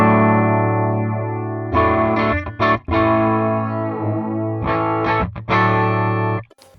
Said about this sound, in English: very, very short times that allow you to create like chorus or flanger effects like this